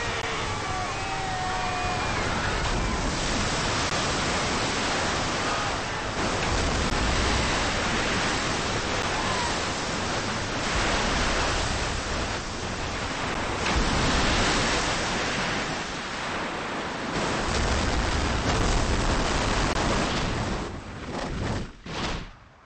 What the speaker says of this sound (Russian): Цунами!